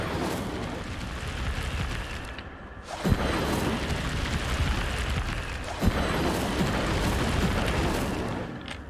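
Incendio fire spells cast in the video game Hogwarts Legacy, a dense roaring whoosh of flame with two sharp bursts about three seconds apart, loud and continuous with no voices.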